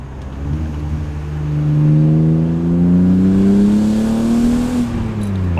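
A BMW M3 fitted with an axle-back exhaust revs up with a rising, droning engine note that climbs, holds loud and close, then eases slightly, its tone sweeping upward through the pull.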